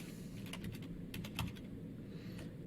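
Quick clusters of light keystrokes on a keyboard, typed at close range over a steady background hiss, with no voices.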